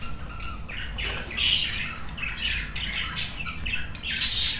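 Budgerigars kept as breeding birds in a breeding room squawk and chirp in a dense, continuous chorus, with sharp calls overlapping from several birds at close range.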